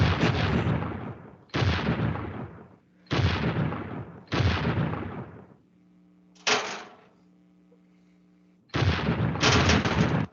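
Robot tanks firing shots in a Robocode game: loud, broad bursts about a second long, repeated five times with short gaps, over a steady low electronic hum.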